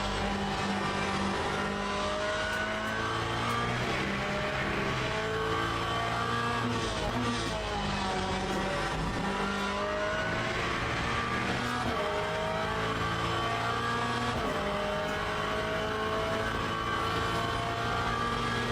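Porsche race cars in the video game Le Mans Ultimate at Monza, a steady, loud engine drone with shifting pitch and revving as cars run close together, continuous throughout.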